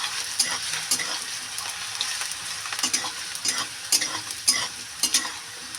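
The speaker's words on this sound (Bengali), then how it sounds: "আলুটা কিন্তু ভাজা হচ্ছে গ্যাসটা কিন্তু একদম কম করে দেবো" Potato pieces frying in oil on low heat, with a constant close sizzle broken by repeated scraping strokes of a spatula being stirred through the pan, no talking.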